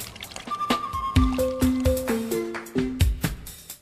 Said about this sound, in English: I use vinegar to wash the vegetables we eat uncooked